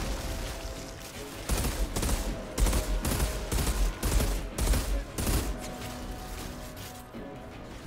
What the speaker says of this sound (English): Man, there's a freaking sniper.